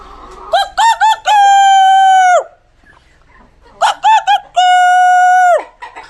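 A rooster crows twice at dawn, loud and close, each crow a few short rising notes ending in a long held cry, with a quiet pause between them.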